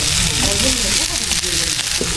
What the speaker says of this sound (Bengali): রান্না হয়ে গেছে, একদম খুব সুন্দর করে ভাজা করে দিচ্ছি।